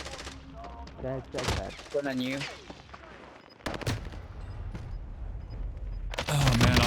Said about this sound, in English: I'm getting absolutely beamed by a pistol again.